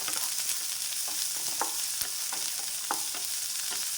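Long-cut onion slices sautéing in hot oil in a pan for a Kerala-style brinjal curry, a steady close sizzle broken by occasional scraping stirs, with no voices.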